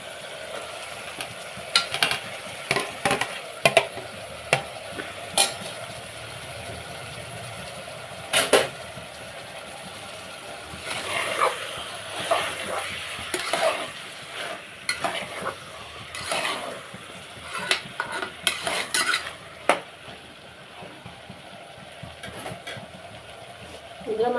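Pieces of mutton for a mutton curry sizzle and fry in a pan while a spoon stirs them, with repeated sharp scraping clicks over a steady crackle.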